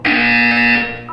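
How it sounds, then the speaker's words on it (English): Buzzer in the video game Portal 2, one loud sustained electronic buzz lasting under a second, heard alone. "You will hear a buzzer."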